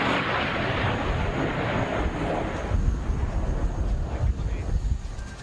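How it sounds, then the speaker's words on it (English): An Italian Air Force Panavia Tornado IDS swing-wing jet making an inverted fly pass at the Cosford air show, a loud sustained roar with wind buffeting that swells and fades. "The Panavia Tornado will strike up with an inverted flight, and after the first upside down fly pass"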